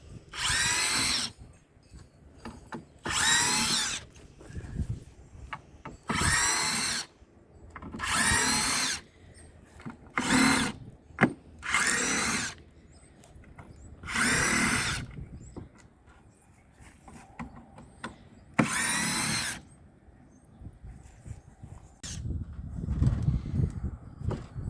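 A power drill backs screws out of a wooden raised bed in about eight loud, close bursts of whirring, separated by short pauses and quiet handling noise.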